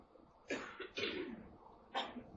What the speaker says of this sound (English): probably aspirated some, so I'm coughing like crazy